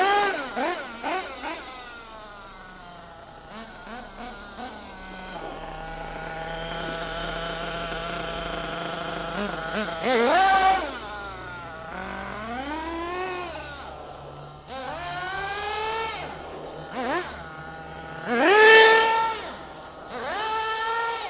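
A small nitro RC car engine runs loudly and close, its buzzing whine idling and then swooping up and down through repeated sharp throttle revs and accelerations.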